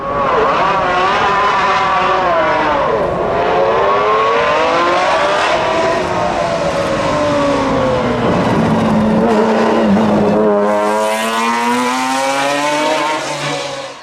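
A naturally aspirated supercar engine screams at high revs, rising and falling through gear changes, loud and close, then cutting to a sharper howl.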